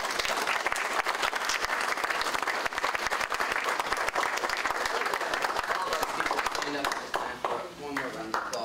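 Dense, steady applause from an audience at a public meeting on water quality and fracking, many hands clapping at once throughout before thinning at the end, with a voice briefly audible.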